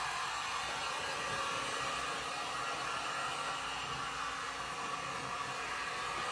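A hair dryer blows steadily as it dries fresh paint on a thrift store sign, a constant airy roar at even volume from start to finish with no voices.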